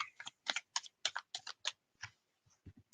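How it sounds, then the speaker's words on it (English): A burst of quick papery riffling in several short bursts, close and crisp, then a few softer taps and thumps trailing off. "Okay, that was a good shuffle."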